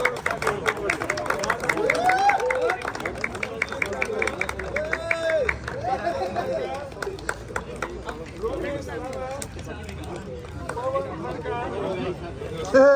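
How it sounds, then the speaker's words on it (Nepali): An audience applauds the champion of a futsal tournament, the Inter Lions Governor's Cup, with scattered clapping amid crowd chatter and loud talk over it, busy and sustained. "जोरदार तालीले सम्मान"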